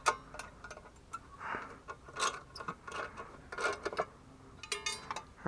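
Wrench clicks and metallic ratcheting from loosening bolts on the carburetor of a Craftsman snow blower with a 5 hp Tecumseh Snow King engine, a series of close, quiet ticks in irregular bursts, with no talking.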